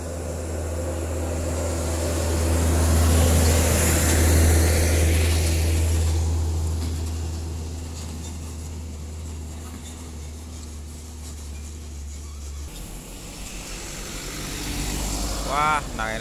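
Vehicles overtaking one another on the Alas Roban forest road make a loud, swelling engine drone that fades away, leaving a quieter road rumble before another engine rises again near the end, with a voice speaking briefly.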